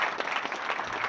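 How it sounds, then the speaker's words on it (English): Applause at an event naming a winner's circle and performance center: a brief, steady burst of clapping from an audience, moderately loud and with no talk over it. "do a second round of applause"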